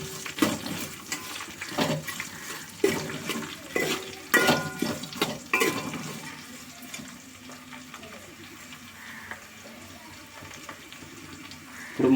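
Sliced onions and green chilies stirred in a hot pan for a village-style bottle gourd stew, with a continuous wet sizzle and clattering spoon scrapes that settle into a quieter steady frying hiss.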